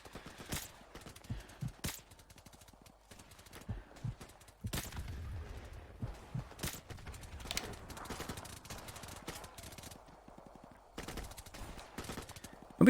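Gunfire in Call of Duty 4: Modern Warfare, scattered sharp shots and short bursts at irregular intervals, some near and loud, others fainter, with no talking.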